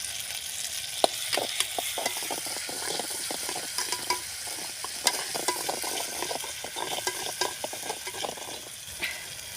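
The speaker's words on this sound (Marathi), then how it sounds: "पेस्ट चांगला शिजू द्यायचा आहे तेलामध्ये" Masala paste sizzles in hot oil on a clay stove, a steady close frying hiss broken by frequent sharp stirring scrapes at an uneven rhythm, with no voices.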